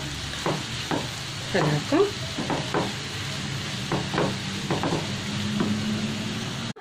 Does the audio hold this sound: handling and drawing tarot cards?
no